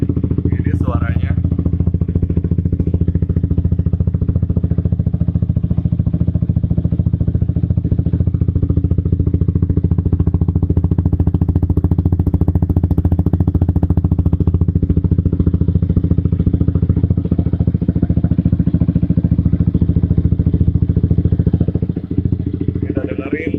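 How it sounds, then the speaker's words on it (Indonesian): A Yamaha R15 V3 motorcycle fitted with an Akrapovic exhaust runs steadily with a deep, bassy, continuous drone, loud and close, holding a fairly even pitch throughout. "kita akan dengarkan suara Akaprofik yang gue punya ya."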